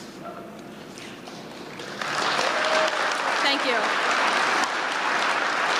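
An audience at a State of the Union political event breaks into sustained applause that swells partway through and stays loud and dense, with a speaker's voice briefly heard over it.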